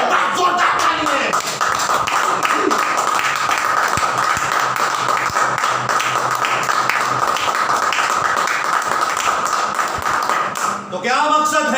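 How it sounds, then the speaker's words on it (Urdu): A church congregation claps loudly in praise, a dense steady patter of many hands sustained for several seconds, close and full. "یسوع کے لیے بات زوردار تالی ہے۔"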